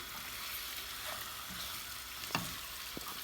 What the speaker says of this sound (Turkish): Bunu da şöyle güzelce karıştırıyoruz ve suyunu ilave edeceğiz